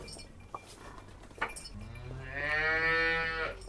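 A buffalo on a farm lets out a loud, drawn-out moo that swells in the second half and carries over faint background noise, with a couple of brief clinks before it.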